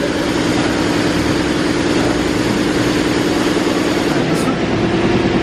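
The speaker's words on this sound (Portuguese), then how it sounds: "tá fazendo barulho de tudo solto aqui na moto" A Honda CB 300 motorcycle engine fitted with a BMW R1200 piston runs with a steady, loud mechanical drone and a loose rattling clatter throughout, continuous and close.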